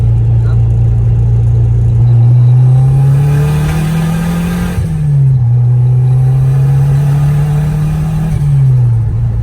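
Engine of a car on a dyno at SD Racing, loud and close, droning at a steady pitch, rising in a slow pull, briefly dropping near the middle, then climbing again before easing off at the end.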